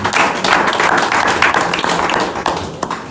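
A church congregation claps together in acclaim of the Lord, a loud, dense, continuous patter of many hands filling the hall without pause and with no speech over it.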